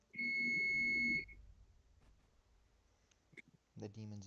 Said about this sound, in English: Your oven's beeping or something.